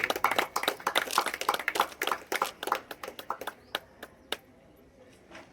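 An audience claps at the opening ceremony of a Kasi choultry old-age home, with dense applause that thins into scattered individual claps and then fades out.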